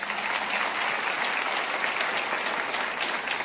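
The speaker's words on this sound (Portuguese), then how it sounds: "Pode aplaudir o Senhor," A church congregation applauds, a dense, even wash of many hands clapping together that holds steady throughout.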